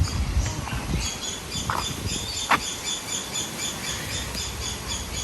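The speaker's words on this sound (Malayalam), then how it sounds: "കിളികളുടെ കളകളാരവൊക്കെ കേൾക്കാം." Birds chirp and squawk around an island resort in Fiji, repeated short high calls at moderate distance over a soft outdoor background.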